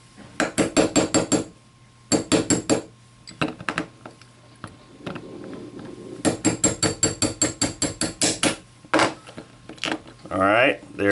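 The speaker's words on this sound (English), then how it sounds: "we'll take our 3/32 inch punch, and we're going to tap out that forward pin right there" A 3/32 inch punch is hammered against a trigger pin on a CZ 912 shotgun, making quick bursts of sharp metallic taps in rapid rows, close and loud, with pauses between bursts and a voice speaking briefly at the end.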